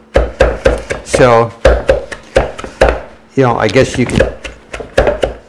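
A knife chops food on a cutting board during kitchen batch prep, giving sharp, close, rhythmic strikes in quick bursts while someone talks.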